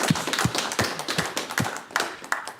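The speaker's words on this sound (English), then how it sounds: "So I think we have to applaud Sharon" A small audience at a talk on clinical trials, medical records and AI claps together, the hand claps sounding close and distinct in an uneven, brisk rhythm that keeps going steadily with no voices heard.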